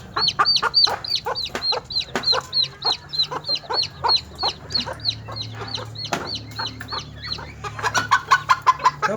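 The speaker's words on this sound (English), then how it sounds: "Couple more roosters." Chickens and roosters at a chicken ranch in Tijuana, a dense run of repeated close clucks and squawks in steady rhythm, with more excited calls toward the end.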